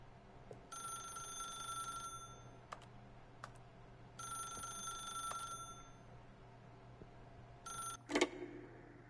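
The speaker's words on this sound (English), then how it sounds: "If you can truly place your faith in another, then pick up the phone." Telephone ringing in the video game The Stanley Parable: two long electronic bell-like rings with a short third burst, sounding alone over a low background hum, followed by a brief clatter.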